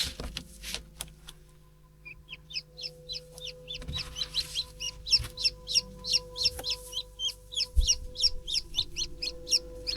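A newly hatched chick peeps in a fast run of high, regular cheeps beside a hen's low clucks, all close and clear with no voices, the peeping getting busier after the first couple of seconds.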